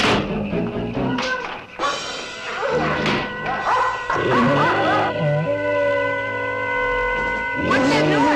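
Dogs bark in short, repeated bursts within a 1970s horror movie trailer, mixed over dramatic music and sustained tones, with voices speaking at moments throughout.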